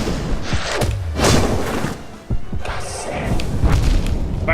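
Nightmare King Grimm's fire pillars attack in Hollow Knight, a series of deep booming thuds and whooshing bursts repeating close and loud, with a voice speaking faintly underneath.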